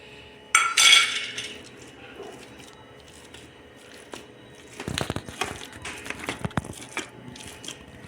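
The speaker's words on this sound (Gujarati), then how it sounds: "બટાકું છૂંદીને તૈયાર છે" Boiled, peeled potato mashed with a utensil in a dish, a loud scrape at first, then quiet handling, then a run of rhythmic close crushing squelches and metal clinks against the dish.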